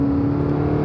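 Race car engine under throttle on a track, a loud steady droning roar with a strong even tone, held without pause for under a second.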